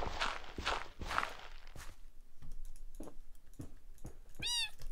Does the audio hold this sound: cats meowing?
yes